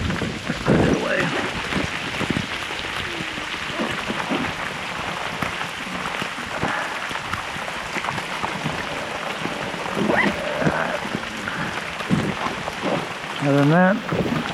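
Heavy rain hisses steadily in a dense, constant wash while fishing on the Florida flats, with occasional gusts and a brief rising whine near the end.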